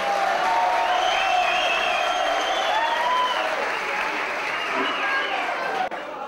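An audience at the Leskovacka Zvezde Show 2014 applauds a singer: loud, dense, sustained clapping with crowd noise, holding steady for several seconds before easing slightly and cutting off near the end.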